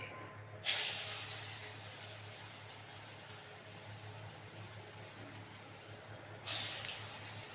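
Small fish and lentil fritters dropped into hot frying oil on a lowered gas flame, a soft continuous sizzle with two sharper bursts of hissing spatter as each batch goes in.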